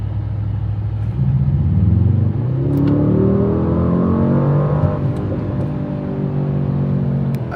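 A Mercedes-AMG car in track mode revving up loudly nearby, engine pitch climbing in rising sweeps with a deep rumble, then holding a steady growl, no talk over it.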